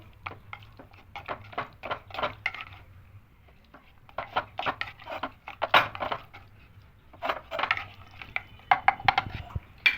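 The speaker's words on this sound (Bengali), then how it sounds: "এবার চিকেনগুলো দিয়ে দেবো এটা করে নেড়ে নেবো" Chicken pieces go into a clay pot of spiced gravy and are stirred, with clustered knocks, scrapes and clatters of a utensil coming in uneven bursts between short quiet gaps, close to the listener.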